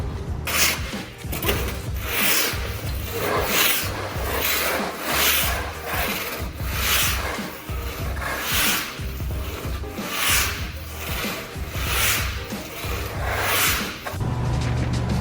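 Scraping and smoothing a garage floor before epoxy, heard as a continuous rough rubbing and grinding that sweeps back and forth in a regular rhythm, loud and close throughout.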